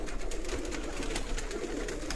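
Pigeons kept for sale, including red-eyed birds, coo softly and continuously close by, with no voices.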